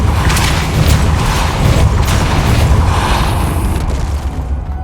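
A Depulso spell impact in Hogwarts Legacy lands as a loud, dense booming burst that swells and rumbles for several seconds, thick with low crackling energy and fading slightly at the end.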